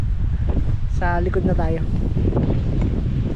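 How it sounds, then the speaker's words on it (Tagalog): Strong wind buffets the microphone in a constant loud rumble outdoors, with a voice speaking briefly over it. "Grabe hangin, lakas."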